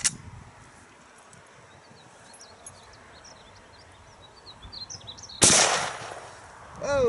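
A single sharp rifle shot from a Rossi Rio Grande 45-70 lever-action fired at soda cans outdoors, loud and sudden after several seconds of quiet with faint birdsong, followed by a fading echo.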